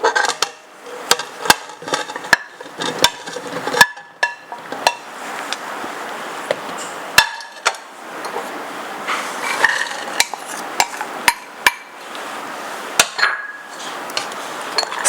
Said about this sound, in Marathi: आता ही भाजी तयार करण्यासाठी हे सर्व साहित्य आम्ही मिक्स करतोय.